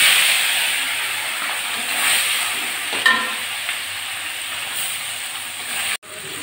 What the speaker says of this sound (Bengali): আমি কড়া বসিয়ে দিয়ে সাদা তেলও দিয়েছি, গরম হয়ে গেছে। আমি আগে মাছগুলো ভেজে নেব